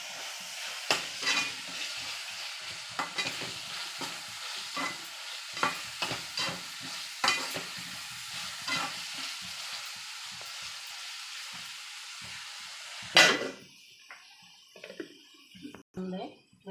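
Onions frying in a pan for coconut rice, a continuous bright sizzle with repeated scraping stirs, close and steady, before a sharp clatter and a sudden drop to near quiet near the end.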